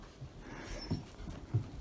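A dog whimpering, with a few soft, brief whines and snuffles close by in an otherwise quiet moment.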